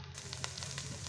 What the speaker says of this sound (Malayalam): ഇനി നമുക്കിതിലേക്ക് ഒരു തണ്ട് കറിവേപ്പില ചേർത്ത് കൊടുക്കാം